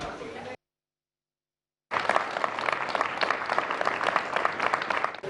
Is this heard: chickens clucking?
no